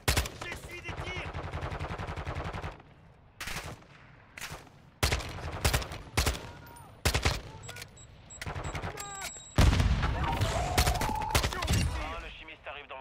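Rapid bursts of automatic gunfire in Call of Duty Warzone DMZ, several loud volleys separated by short pauses, with a final long sustained burst mixed with in-game effects.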